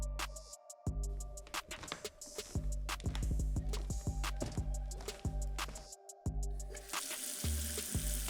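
Water runs steadily from a kitchen tap while dishes are washed in the sink, with intermittent clinks and scrapes of crockery and brief pauses in the flow, close and fairly quiet.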